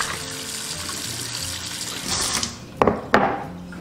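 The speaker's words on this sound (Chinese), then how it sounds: "首先把圆贝清洗干净" Scallops being rinsed under a running kitchen tap, a steady splashing water stream in a sink with a couple of brief louder splashes near the end.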